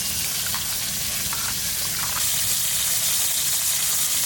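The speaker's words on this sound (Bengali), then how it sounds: "ডাল ধুয়ে নেব।" Tap water runs and gushes steadily while lentils (dal) are rinsed for a festive khichuri, a continuous broadband splashing that holds nearly constant throughout, with small clinks now and then.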